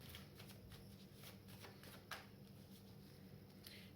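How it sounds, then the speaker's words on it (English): A deck of cards is shuffled by hand close by, giving quiet papery riffles and soft flutters that repeat over a few seconds, faint and with no talk. "Keep getting my hair caught when I shuffle."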